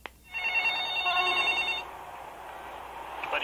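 Telephone ringing from a played tape recording of a call to a car phone, a steady electronic ring with bright harmonic tones lasting about a second and a half, then a faint hiss of tape until another brief ring begins.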